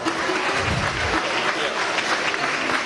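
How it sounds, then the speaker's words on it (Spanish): A crowd applauding at a government housing handover event with a youth orchestra system celebration, steady dense clapping filling the short stretch, with voices mixed into the clapping. "Es un aplauso."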